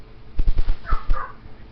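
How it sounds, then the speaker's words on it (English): A dog barks in the background indoors, a quick muffled run of about six barks in the first second or so, then a couple of softer yips, with no talk over it. "Ignore the sound of dog barking in the background."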